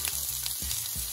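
Onion frying in oil in a pan while cooking a vegan fettuccine alfredo, giving a steady close sizzle with low crackling bursts at short intervals, no voices.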